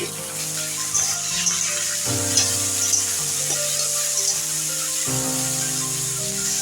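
Steady, close sizzling of cauliflower, carrot, beans, capsicum and green chillies frying in a pan, with occasional stirring, over soft background music.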